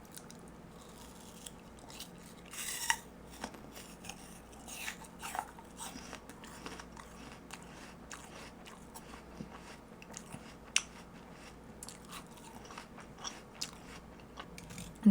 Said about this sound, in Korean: 사과 먹을 때 껍질을 채로 먹어요.